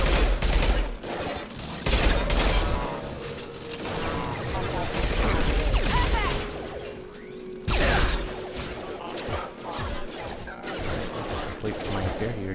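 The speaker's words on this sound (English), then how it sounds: "Shoot them before they take out the shield." Sci-fi combat in Mass Effect 2, with bursts of rifle fire, impacts and crashes against mechs coming in uneven volleys and brief lulls, occasionally under a speaking voice.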